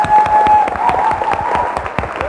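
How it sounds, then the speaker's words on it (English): A college audience at a Dress for Success event applauds for a staff coordinator, loud, close, steady clapping from many hands lasting a couple of seconds, with a faint tonal hum running beneath it. "we also want to give a special round of applause to our Employment Services Coordinator, Mary Lynn Munger."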